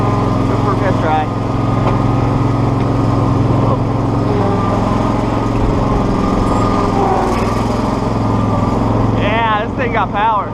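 A zero-turn mower with a newly swapped engine runs steadily on a test ride, its loud, constant drone filling the recording at close range, with brief voices and faint squeaks near the end.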